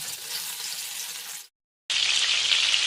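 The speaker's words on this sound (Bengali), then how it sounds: "বাকি মাছগুলোকেও আবার আমি ভেজে নেব" Loud, even hiss of foli (featherback) fish frying in oil that cuts out to brief silence, then returns slightly brighter and stronger.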